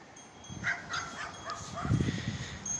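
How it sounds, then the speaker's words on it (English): Outside a workshop, a dog barks a few times at middle distance in short, moderately loud yaps over faint background noise. "That annoying dog right there."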